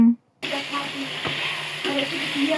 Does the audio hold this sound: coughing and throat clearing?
no